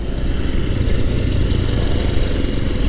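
Honda Trail 125 motorcycle engine lugging in third gear at about 16 mph, a loud, steady low rumble throughout with no talk.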